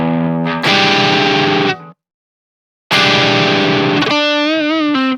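Electric guitar played through the Aurora DSP Rhino amp plugin on normal settings, loud and saturated with mild added gain: a sustained chord, a near-second of silence, another strummed chord, then ringing bent single notes.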